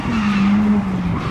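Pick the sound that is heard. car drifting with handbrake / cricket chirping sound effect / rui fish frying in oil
car drifting with handbrake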